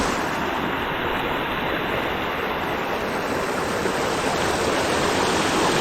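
Steady rushing of flowing river water, broad and continuous, close by with no voices.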